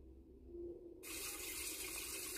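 A tap suddenly turned on in a quiet room, water gushing into a sink steadily and loudly after a second of low hum.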